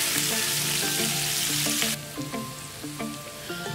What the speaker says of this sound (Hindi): इनको बस सिर्फ हल्का सा हम इसको फ्राई करेंगे